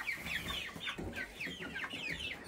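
Chickens cluck close by on a farm, a busy run of short, overlapping calls with no talk over them.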